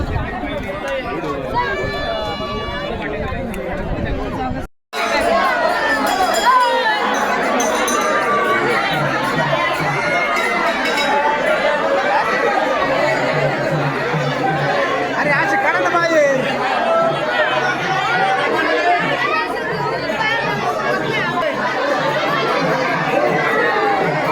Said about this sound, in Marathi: खूप खूप गर्दी इथे मंदिरामध्ये आहे